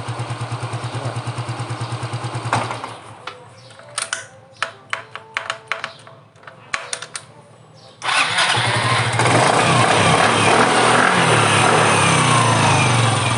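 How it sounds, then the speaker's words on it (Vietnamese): A Honda Janus scooter engine cranks and fires, sputters through several short bursts, then catches and settles into a loud, steady idle at close range. "ghim vô thì nổ máy bình thường"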